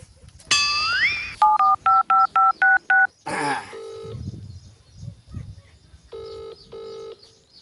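A telephone dial sequence of short, evenly spaced tone beeps follows a rising electronic chirp, then two ringback tones sound before and after brief talk in between.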